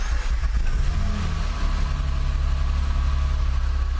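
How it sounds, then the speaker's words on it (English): Acura TL engine running at a steady idle, a low continuous rumble with a brief rise in pitch near the start before settling into an even hum. "Car's running."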